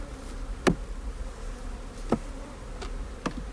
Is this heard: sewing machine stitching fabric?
no